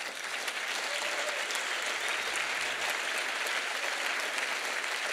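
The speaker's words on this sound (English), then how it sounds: "So give them a round of applause." Sustained audience applause at a 50th anniversary celebration of an environmental group, steady and fairly soft throughout, with no speech over it.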